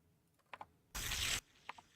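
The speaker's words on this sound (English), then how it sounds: "paper being torn." A single sharp burst of paper being torn, a short dense rip lasting under half a second, set between a few faint soft rustles and clicks in an otherwise quiet space.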